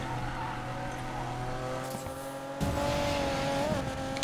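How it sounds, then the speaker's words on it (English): A Ford GT in the Need for Speed Payback video game drifts, its engine droning loudly and steadily while a tire squeal rises near the end, with no talking. "There's your bit of drifting."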